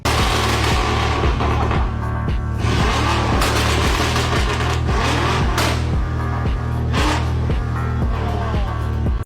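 A modified BMW M5 Competition tuned to about 900 horsepower, its engine revving loudly and steadily up close with repeated pulsing bursts and crackling pops throughout.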